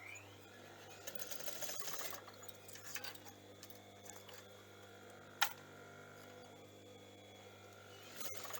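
A sewing machine stitches shirring elastic onto a top with a steady, quiet mechanical whir over a constant mains hum, broken by a sharp click partway through.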